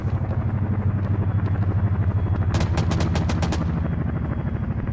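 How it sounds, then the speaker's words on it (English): A military helicopter in a Cold War-era combat video game throbs loudly with a rapid, rhythmic rotor chop throughout, as a short burst of automatic gunfire cracks over it midway. "Sounds like a helicopter."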